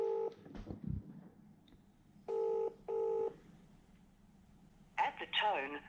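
Telephone keypad dialing tones: a few distinct steady two-tone beeps in a short sequence, clear and close, with a brief low voice before them and a chirpy electronic sound at the end.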